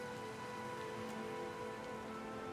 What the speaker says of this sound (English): The crew guide the Defiant through the unending downpour.